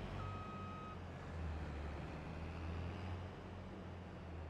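Reversing beeps from a grain cart in Farming Simulator 22, a steady repeating tone over a constant low engine drone, with no talking.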